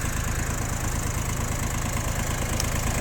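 A Yanmar YM1602D four-wheel-drive mini tractor fitted with a loader and rotary tiller idles with a steady, even diesel chug that stays constant and fairly close throughout.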